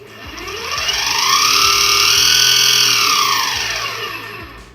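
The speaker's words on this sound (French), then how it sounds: "j'aime pas trop le bruit que le skate fait" Exway Flex electric skateboard motor whining in a fairly quiet setting, a high, slightly metallic tone that rises and falls smoothly over several seconds, louder in the middle and fading at the ends.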